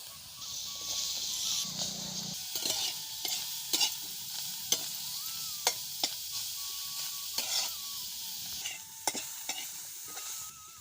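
Chopped onion frying in an oily pan for a rustic tomato dish, a soft continuous sizzle broken by sharp metallic taps and scrapes of a stirring spoon at irregular intervals.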